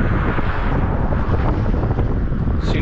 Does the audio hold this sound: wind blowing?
yes